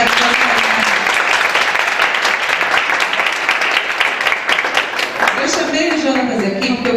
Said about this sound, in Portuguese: Palmas para a participação.